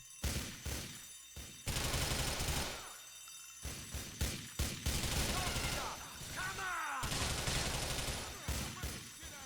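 Gunfire in the video game GTA IV, loud bursts of automatic fire and rapid shots that come in clusters with short gaps, alongside other game effects.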